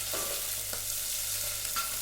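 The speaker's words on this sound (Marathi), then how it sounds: "लसण आणि जिरं मस्त होताय तेलात तळतं" Garlic and cumin frying in oil for a dal tempering, a steady low sizzle with a few soft stirring scrapes, close and fairly quiet, no voices.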